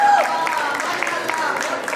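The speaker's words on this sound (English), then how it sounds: "A big round of applause for whole Vidya Jyoti team and Pratibha ji." Audience at a cultural festival applauding the Vidya Jyoti team, a moderate patter of clapping over a faint crowd murmur, with a voice briefly heard at the start.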